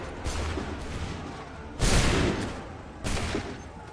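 Musket volleys in Assassin's Creed 3, a redcoat-era line battle at a barricade: three loud, rolling crashes of massed fire, each a burst of several shots blurring together, spaced about a second and a half apart.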